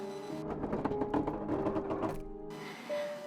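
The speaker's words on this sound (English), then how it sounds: "There's a creak with each step I take back to my bed." Old wooden house floor creaking under slow footsteps, a run of dry, grinding creaks close by for about two seconds, then a brief pause and a fainter squeak.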